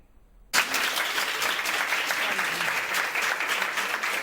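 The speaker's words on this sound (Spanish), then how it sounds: "es el aplauso cerrado que recibe Elsa, una paciente de COVID que llevaba 315" Staff in a Madrid hospital give sustained applause as a COVID patient is discharged after a long stay. The clapping starts abruptly after a brief quiet moment, then holds as a dense, steady wave of many hands.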